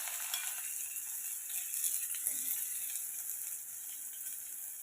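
Chopped onion frying in oil with mustard seeds, cumin and curry leaves, making a steady, close sizzle with light crackle throughout and no talk.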